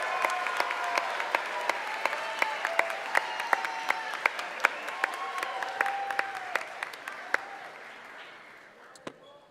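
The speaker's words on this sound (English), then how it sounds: "how about one more round of applause for the university singers and the university band led by Josie Fisher." Applause from a large audience at a university commencement, steady and fairly loud, with sharp individual claps standing out before it gradually fades toward the end.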